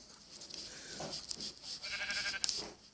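Brown sheep bleating in Minecraft, a few short wavering bleats at moderate loudness over a steady game background, with no talk.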